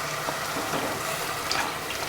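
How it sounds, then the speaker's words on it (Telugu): Water being poured into a pan of curry made with dried fish and eggs, heard as a steady, close splashing and gushing stream that runs unbroken with no pauses; no voices. "ఇప్పుడు వాటర్ వేసుకుంటున్నాను."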